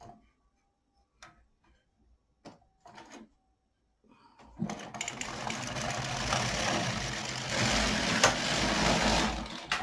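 LK 150 knitting machine carriage pulled across for two rows, beginning with a few sparse clicks and taps before a loud, steady mechanical rattling whir takes over for the second half.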